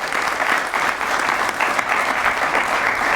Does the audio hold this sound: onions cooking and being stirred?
no